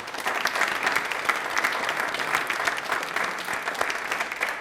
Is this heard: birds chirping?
no